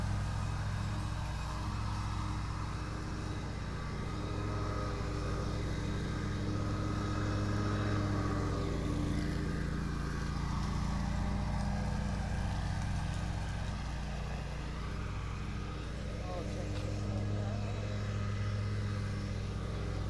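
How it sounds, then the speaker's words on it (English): A lawn mower mowing grass in a Japanese garden in autumn, a continuous low engine drone running steadily for the whole stretch at moderate distance, with no talking. "got to mow the grass, of course"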